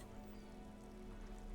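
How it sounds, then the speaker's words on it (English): Steady, soft rainfall in the video game Disco Elysium, a faint continuous patter and hiss with no voices over it. "It's raining again."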